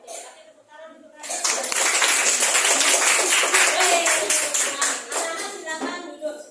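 Schoolchildren in a classroom clapping their hands together, a brisk rhythmic burst of many small hands that starts abruptly after a moment of children's voices and continues under chatter for several seconds.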